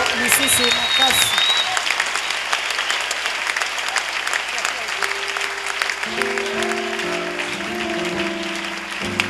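A church congregation applauds loudly in a sustained wash of clapping, while a voice speaks over it and music tones come in toward the end.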